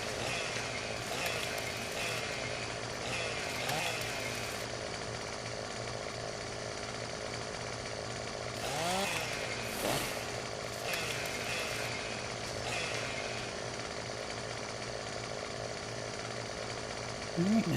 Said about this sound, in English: Got a few more limbs to trim up here.